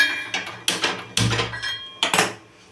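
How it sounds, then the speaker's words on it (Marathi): An iron tava griddle set down on a home kitchen stove, giving several sharp metallic clanks and clinks, with one heavier thud near the middle, close and fairly loud, with no talking. "आता मी तवा तापत ठेवते"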